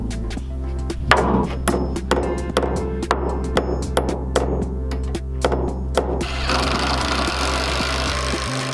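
Hammer pounding an angled metal piece flat on a shipping container playhouse, a run of sharp, evenly spaced strikes, followed by a steady broadband hiss over a constant low hum.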